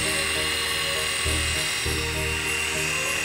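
A small 3-channel RC helicopter whines steadily with a high-pitched electric motor and rotor buzz, fairly close, with brief low-pitched thrums as it shifts.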